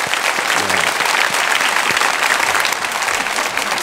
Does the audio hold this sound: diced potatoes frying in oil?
no